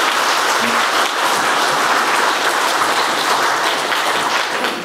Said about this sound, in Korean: 자, 박수 한번 하겠습니다.